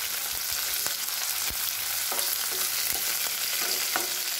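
Cumin, onion, green chili and whole spices sauté in a pan over lowered heat, a steady close sizzle broken by scattered spoon scrapes and light taps against the pan, with no one talking.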